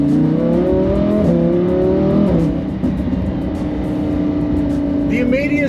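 A Lamborghini Huracan engine revs and pulls hard under acceleration, a loud continuous mechanical roar with rising and shifting pitch, heard close throughout.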